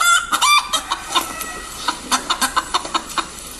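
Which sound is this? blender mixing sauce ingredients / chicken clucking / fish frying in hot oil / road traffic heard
chicken clucking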